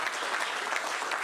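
Audience clapping in a room at a startup innovation demo day, a brief, fairly faint burst of dense applause lasting just over a second.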